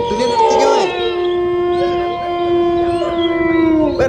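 Several dogs howl together at night near a cremation ground, long wavering wails overlapping and sustained throughout, fairly loud and close, with no one talking over them.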